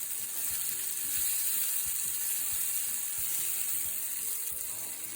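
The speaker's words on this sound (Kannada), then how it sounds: "ಈ ಆಯಿಲಲ್ಲಿ ಒಂಚೂರು 30 ಸೆಕೆಂಡ್ಸು ಬೆಂದರೆ ಸಾಕು" Avarekalu, hyacinth beans, sizzle in hot oil while frying in a kitchen, giving a steady, close, continuous hiss with no talking.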